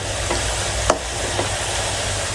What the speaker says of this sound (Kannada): ಇದು ಜಾಕ್ ಫ್ರೂಟ್ ಚಿಪ್ಸ್ ಮಾಡ್ತಿದ್ದೇನೆ, ತೋರಿಸ್ತೇನೆ ಬನ್ನಿ. ನೋಡಿ, ಚೆನ್ನಾಗಿ ಫ್ರೈ ಆಗಬೇಕು.